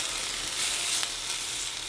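Salted nopales sizzle steadily in a hot pan, a continuous bright crackling hiss that holds fairly even throughout with a few small pops and no talking.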